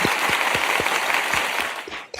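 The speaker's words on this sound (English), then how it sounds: "once again, round of applause." Brief round of applause from a small audience, thin scattered clapping with a few distinct sharp claps that fades out within a couple of seconds.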